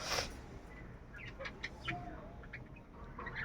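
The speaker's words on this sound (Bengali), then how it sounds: "এগুলো কি বন মুরগি?" Jungle fowl at a Kolkata bird market give short, scattered clucks over a noisy market background, with a few brief calls at moderate distance.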